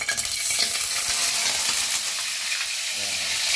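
Meat frying in a pan, a loud, steady sizzle with faint stirring running throughout the short stretch, with no talk over it.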